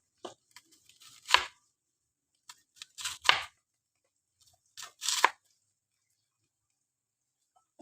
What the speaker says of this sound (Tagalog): Pag nakapagsalang ako, hiwa ng sibuyas.